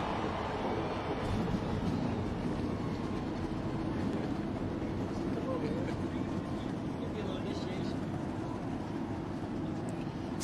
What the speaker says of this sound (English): The engines are fired here.